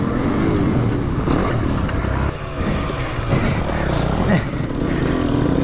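A motocross motorcycle rides a dirt track, part of a two-stroke versus four-stroke comparison. Its engine drones loudly and steadily, rising and falling in pitch as the rider shifts and throttles, close and continuous with a brief dip midway.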